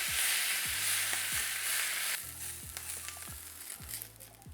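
Hispi cabbage sizzles in a pan as vinegar and soy sauce cook off, a bright steady frying hiss that drops in volume midway, with faint stirring scrapes and no talk.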